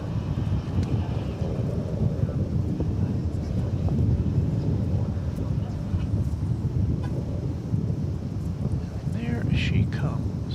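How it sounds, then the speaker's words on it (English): Cathay Pacific cargo Boeing 747-8 on arrival from Anchorage at DFW Airport, a steady distant jet roar under wind noise, with a few faint bird-like chirps near the end. "747-800 coming in from Anchorage"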